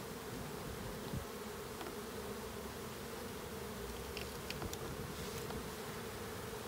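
A steady, dense buzzing of a honey bee swarm fills the air without pause, low and continuous, with no voices.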